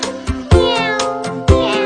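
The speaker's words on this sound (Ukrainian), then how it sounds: "Кішка няв" A cat meows several times in quick succession, loud and close, each call short with a rising, nasal tone.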